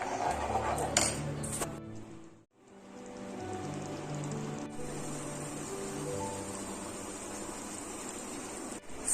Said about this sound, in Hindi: घी रेडी हो रहा है